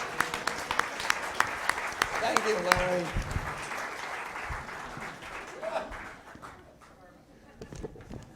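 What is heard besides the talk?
audience applause for the panelists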